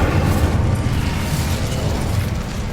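An Incendio fire spell is cast in Hogwarts Legacy, giving a steady whooshing, crackling burst of flame over a low roar that holds loud and even throughout.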